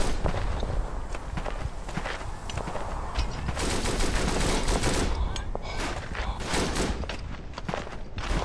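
A hip-fired machine gun rattles through a World War I trench battle in the Verdun game, with dense, continuous bursts and scattered shots and battlefield noise layered throughout, loud and close.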